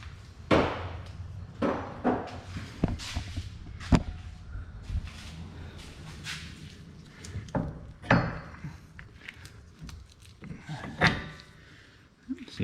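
Sharp metallic hammer blows strike a punch to drive a VW/Audi CV axle out of the steering knuckle, irregular loud knocks spaced several seconds apart with quieter shuffling and clanks between them.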